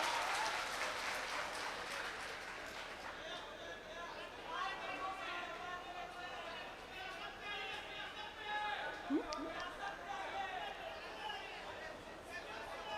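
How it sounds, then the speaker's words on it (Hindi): Applause from the audience at a poetry recitation: a moderate wash of clapping mixed with crowd chatter and murmuring, sustained and fairly even throughout. "एक बार ताली बजाइए"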